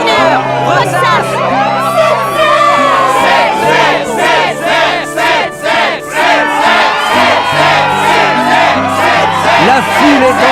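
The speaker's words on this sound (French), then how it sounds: "La foule est en délire." A large crowd roars and cheers at a Struggle match in the video game Kingdom Hearts II, a loud sustained wall of shouting and whooping voices with rising cries throughout.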